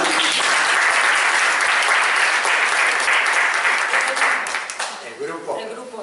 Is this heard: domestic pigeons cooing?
no